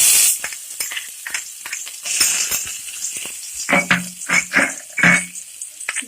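Garlic fries in oil in a pan, a bright close sizzle with crackling, interrupted by clinks and scraping as it is stirred, loud and continuous with no voices.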